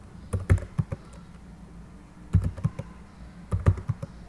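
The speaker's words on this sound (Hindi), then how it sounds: "यहाँ मैं खुद ही कुछ नंबर्स जो हैं एंटर करता हूँ।" Number entry on a computer keyboard while building a mark sheet in MS Excel: three separate bursts of quick, close key taps, each a short cluster of clicks separated by brief pauses, with no talking.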